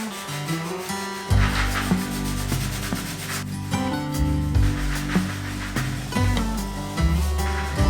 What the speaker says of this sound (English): take a microfiber cloth that is wet, it's damp, and you're just gonna go over the stone portion of it